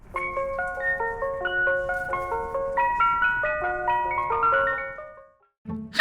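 An ice cream truck's tinkling melodic jingle plays loudly and steadily for several seconds as the vehicle drives off, then stops abruptly and is followed by a brief burst of other noise.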